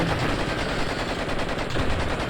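Rapid automatic gunfire rattles continuously in the video game Blood and Bacon, a loud, dense stream of shots with no pauses.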